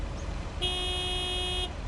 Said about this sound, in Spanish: ¿Qué toca bocina?